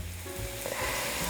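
Squash samosas frying in hot oil, a steady, close, dense sizzle that continues without a break through the short clip.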